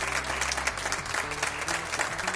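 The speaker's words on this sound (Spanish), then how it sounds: "El aplauso para usted de bienvenida." A television studio audience claps continuously in welcome for a doctor guest, a steady, fairly close patter with a low musical hum underneath.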